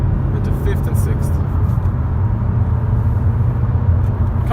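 A 2016 Honda HR-V ESi pulls onto a motorway, its engine droning as a steady low rumble with constant road noise inside the cabin, no clear break for the gear changes, and no talking over it.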